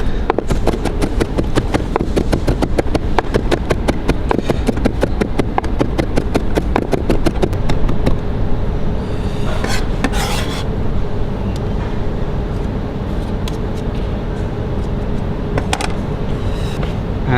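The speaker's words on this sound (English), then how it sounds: "we can just put a hand on top of the knife and just chop them up so they're nice and thin" Knife chopping thin strips of an ingredient on a cutting board with a hand pressed on the blade, a fast, steady run of close, sharp knocks that stops midway, leaving a few scattered taps and scrapes.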